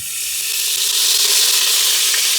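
Cooking oil sizzles steadily in a pan while onions are being prepared for chicken biryani, a close, loud, continuous bright hiss with no talking.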